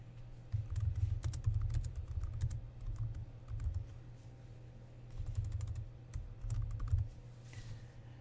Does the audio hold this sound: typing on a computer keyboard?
yes